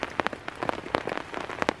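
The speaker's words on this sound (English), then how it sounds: "the hardest part about breaking camp in the rain is the rain" Rain falling on a worn camp tarp while breaking camp, a dense, steady patter of close drops with sharper louder splats mixed in, heard alone without talk.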